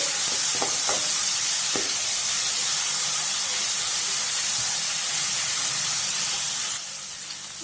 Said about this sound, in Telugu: ఇప్పుడు ఇందులోకి మనము వన్ టేబుల్ స్పూన్ అల్లం వెల్లుల్లి పేస్ట్ వేసుకుందాము వేసుకొని పచ్చివాసన పోయేంత వరకు ఫ్రై చేసుకుందామండి